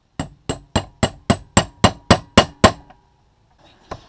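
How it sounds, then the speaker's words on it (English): A hammer taps a metal socket nine times at an even, quick pace to seat a grease cap on a Jeep TJ Wrangler front drive shaft, each hit a sharp close clink, followed by a faint clatter. "Just find a socket that's about the right size, lightly tap it in."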